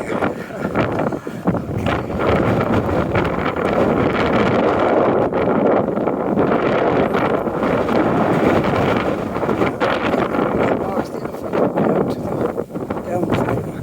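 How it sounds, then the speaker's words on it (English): Strong wind on a cold day roars steadily into the microphone in a dense, continuous rumble along a neighbourhood sidewalk, loud and unbroken for the whole stretch, with a voice faintly speaking underneath. "Oh, it's really windy out here."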